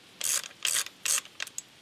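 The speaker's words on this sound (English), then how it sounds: "Just slide it on, rotate it till it locks, and then tighten this thing down." A Strike Industries Oppressor muzzle attachment gives three or four sharp ratcheting clicks as it is rotated until it locks, close and loud with short gaps between them.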